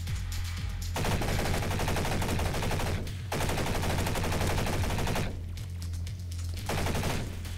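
UMP submachine gun firing in an energy assault video game mode, sustained rapid automatic bursts with brief pauses between them, loud and close, no talking.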